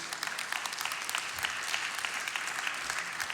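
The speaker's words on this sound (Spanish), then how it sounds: "Dale ese aplauso a Dios." A church congregation applauding during a Spanish-language service, with dense, sustained clapping from a crowd filling the whole span at a moderate, even level.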